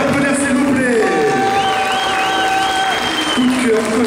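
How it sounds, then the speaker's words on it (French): A crowd applauds a cosplay contestant dressed as an original Pokémon-inspired Draco at a manga and gaming convention costume contest, with steady clapping under loud music and a host's amplified voice talking over it. "On peut l'applaudir"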